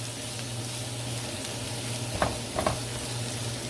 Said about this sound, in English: You just dump your onions in there. And just stir them up like that